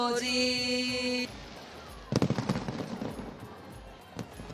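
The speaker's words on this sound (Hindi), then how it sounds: "ये आतिशबाजी शुरू हो गई है" Fireworks at a riverside Deepotsav festival on the Saryu ghats in Ayodhya, heard as a burst of sharp cracking bangs followed by a few scattered pops, coming in after a stretch of sustained tonal music.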